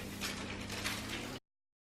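Vanilla soufflé mixture being whisked, a steady rapid scraping whir of a whisk in a bowl for over a second before stopping abruptly, close and moderately quiet.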